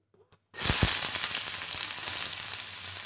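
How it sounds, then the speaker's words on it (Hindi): Chopped onion dropped into hot refined oil in a pan bursts into a loud, steady sizzle after a brief quiet moment, with a bright hiss that holds for the rest of the clip. "इसके गरम होते ही इसमें प्याज डाल देंगे"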